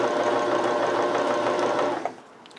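Sewing machine stitching steadily for about two seconds, a dense continuous mechanical whir that stops abruptly, leaving a faint room tone.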